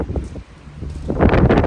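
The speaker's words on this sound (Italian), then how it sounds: "Tira abbastanza vento oggi," Strong wind blows outdoors in the Western Sahara, gusting buffets and rustling rising to a loud rush near the end, with no talk.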